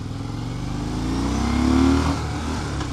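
A 2015 Harley-Davidson Fat Bob motorcycle rumbles steadily underway, its engine note rising to a peak as the rider rolls on the throttle, then dropping back through a clumsy gear shift before settling again.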